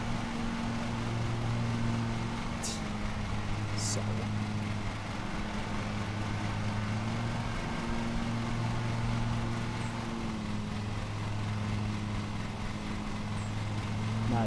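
A lawn mower engine drones steadily in a lawnmower simulator video game, a constant mid-level hum that keeps running alone through the stretch, with players talking briefly over it.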